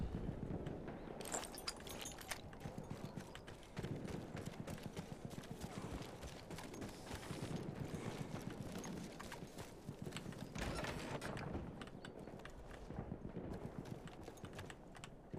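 A horse's hooves clip-clop steadily in Battlefield 1, a rapid continuous galloping rhythm close up, with occasional louder bursts from battle noise around it.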